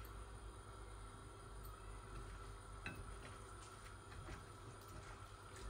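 Four eggs frying in a pan give a faint, steady sizzle, a continuous quiet hiss with small crackles and no talk.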